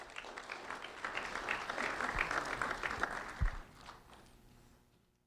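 Applause from an audience at a recognition event for a fifth grade student, a crowd clapping steadily for a few seconds with a couple of louder claps before fading out to near silence.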